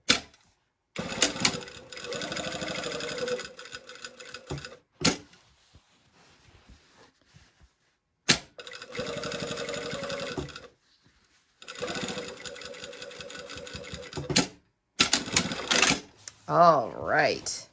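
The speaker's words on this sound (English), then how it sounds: "now I'm going to baste it along the side and then up through the curve here" A sewing machine basting a sleeve seam on a sewing pattern garment, running in several bursts of rapid, even needle chatter separated by pauses and sharp clicks, close up, with brief talk between runs.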